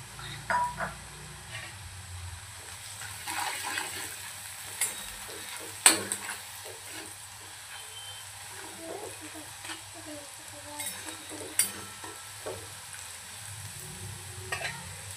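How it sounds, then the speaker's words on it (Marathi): Turmeric and ginger-garlic paste sauté in hot oil for chicken alani, giving a soft, faint sizzle with scattered stirring scrapes and clinks, close by. "छान असे तेलामध्ये आपल्याला ही परतून घ्यायची आहे।"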